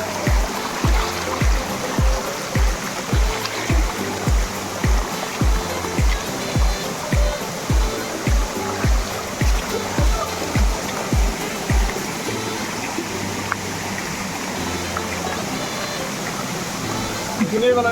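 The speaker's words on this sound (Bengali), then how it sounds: "এই যে আমরা সেই ঝর্ণাটি এখন দেখতে পাচ্ছি।" Jherjheri waterfall and its stream, a steady rushing wash of water beneath a person speaking, with rhythmic thumping footsteps through the first two-thirds.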